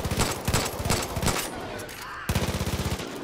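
Rapid bursts of Far Cry 5 gunfire, two rattling volleys separated by a brief pause, loud and close.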